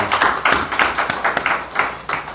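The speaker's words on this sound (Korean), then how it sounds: "박수를 드리도록 하겠습니다." A church congregation at a Christmas service claps steadily, a dense, fairly close round of applause with no talking over it.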